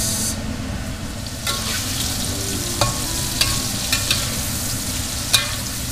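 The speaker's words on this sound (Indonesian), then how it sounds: "goreng dia, guys." Flour-coated pork pieces fry in hot oil for sweet and sour pork, a loud continuous sizzle punctuated by occasional sharp clicks of stirring.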